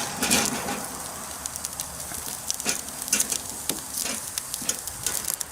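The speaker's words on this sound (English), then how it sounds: "Place the onions and the garlic on a hot grill." Onions and garlic sizzle steadily on a hot grill for fire-roasted salsa, a close, continuous crackle with scattered sharper pops and no voices.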